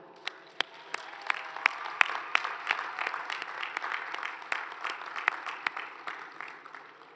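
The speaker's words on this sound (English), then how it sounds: "Would the graduates please give a round of applause to their faculty?" Graduates at a university commencement give their faculty a round of applause, a moderate crowd clapping that swells then fades, with a few sharp nearby claps standing out over the wash.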